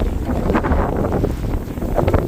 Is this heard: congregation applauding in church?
no